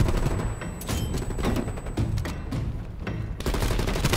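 Rapid automatic gunfire from an AK-74u or KSP 45 in the Call of Duty Black Ops Cold War video game, loud close bursts of shots with short pauses between volleys.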